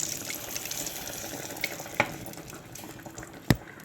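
Hot mustard seed tempering poured into a dried fish curry, a steady watery sizzle and splash throughout with a couple of sharp crackles, close and fairly loud, with no talking.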